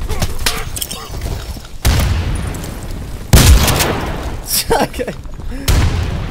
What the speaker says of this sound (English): I'll throw you a frag.